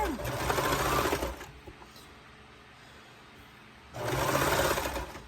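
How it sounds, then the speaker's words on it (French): A sewing machine stitches the last stretch of a shirt collar seam in two loud, steady runs, with a quiet pause between them. "Donc, je vais terminer la couture."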